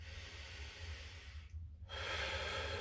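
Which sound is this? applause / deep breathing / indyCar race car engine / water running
deep breathing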